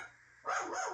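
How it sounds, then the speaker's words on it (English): A small dachshund lets out a single sharp, fairly close bark indoors after a short quiet moment. "My crazy little wiener dog in there"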